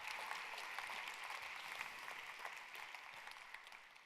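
Conference audience applause, a steady wash of clapping at moderate distance, fading slightly toward the end with no one speaking over it.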